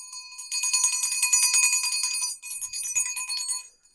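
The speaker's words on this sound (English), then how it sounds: "And I'll use my mom's bell." A hand bell rung continuously with quick, even shakes, giving a bright, shimmering metallic jangle. There is a short pause before the ringing resumes and fades out, close by and alone.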